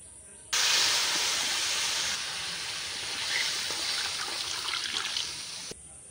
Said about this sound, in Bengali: এই 1 বাটি জল এখন ফ্রাই প্যানের মধ্যে দিয়ে দেব।